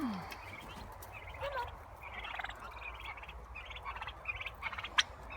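Turkeys give scattered chirping calls and soft gobbles at a modest distance, with a sharp peep near the end, over quiet outdoor background.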